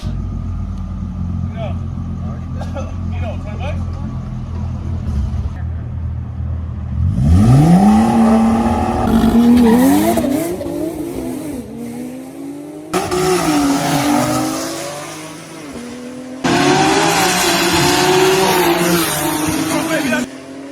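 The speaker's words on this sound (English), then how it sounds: "Porsche 911 Turbo S versus a built GTR" A Porsche 911 Turbo S and a built Nissan GTR race past on Los Angeles streets with loud engine roars, rising revs and gear shifts, tires squealing at times, in several intense bursts.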